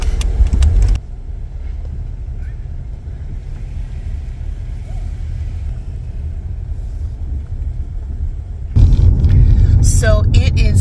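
Honda Element cars setting out together from a meetup in Washington, heard as steady engine and road rumble from inside a moving vehicle, with wind buffeting and louder bursts at the start and end.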